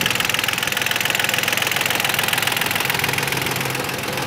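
Iseki TA 235 tractor engine running steadily at a smooth idle, a close, loud, even diesel chug throughout with no voices.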